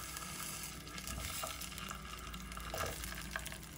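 Chopped ivy gourd (donda kaya) pieces frying in oil in a pan over a low flame, giving a steady, dense sizzle throughout with a few faint clinks, no talking.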